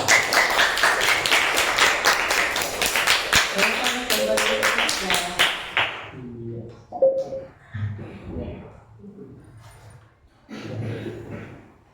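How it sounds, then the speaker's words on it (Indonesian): A classroom of students claps for a group's answer in an Islamic studies lesson, a dense burst of hand claps for about six seconds that then gives way to a teacher talking. "Beri tepuk tangan."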